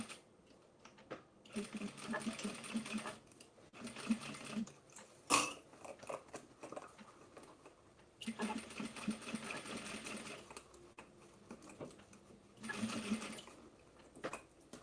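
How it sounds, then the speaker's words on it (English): A sewing machine stitches the back panel of cow-print leather pants onto the gusset in several sustained runs with pauses between, close and fairly loud, with faint handling noises in the gaps. "Stitching the back panel onto the gusset."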